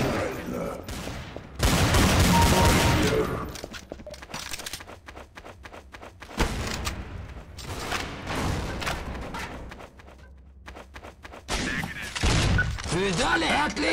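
Bursts of rapid gunfire and impacts in Counter-Strike: Source crackle loudly in clusters, with quieter stretches and brief talk in between.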